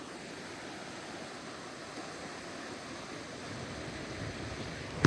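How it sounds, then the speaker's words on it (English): Ocean surf on a sunny Sunday morning with the tide up, a steady soft wash of waves heard from a distance with light wind noise. "And here's the ocean."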